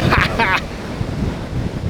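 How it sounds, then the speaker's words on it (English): Strong gusty hurricane wind roaring against the microphone with a brief hiss of breath or rustle at the start, continuous low buffeting throughout. "So it's so windy and so unmanageable"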